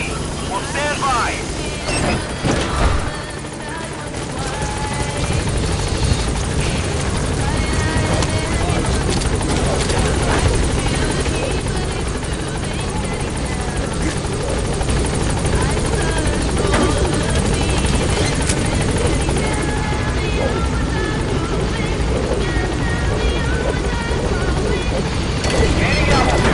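In a video game, the support helicopter Pequod hovers at a landing zone. Its rotor gives a loud, steady whir that lasts the whole stretch, while a radio voice talks over it.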